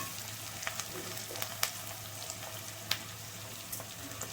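Crushed garlic sautéing in a pan, a quiet steady sizzle with a few sharp clicks of a utensil against the pan, close by.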